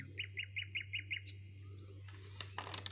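Birds chirp in a quick series of six bright, evenly spaced tweets, followed by a couple of louder, busier chirping bursts nearby.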